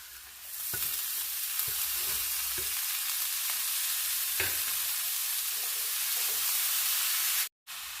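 Pointed gourd and small potato pieces fry steadily in a pan, a continuous close sizzle with a few soft stirring clicks and scrapes, ending in a brief cutout.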